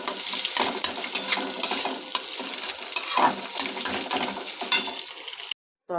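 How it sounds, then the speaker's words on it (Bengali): Bay leaves, onion, chili, garlic and ginger sizzle steadily in hot oil for a tempering, with close crackling spatter and a few light utensil taps, ending in a brief silence. "তরকা করার জন্য দুটো তেজপাতা ফোড়ন দিলাম, পেঁয়াজ, লঙ্কা, রসুন, আদা"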